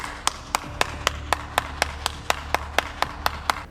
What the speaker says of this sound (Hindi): मुस्लिम समाज सोनिया गांधी के लिए ऐसे ही तालियां बजा रहा था